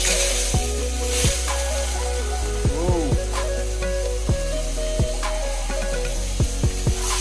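Snails frying in a pan over an open fire, a steady sizzle with repeated clicks and scraping knocks, close and loud, with almost no talking.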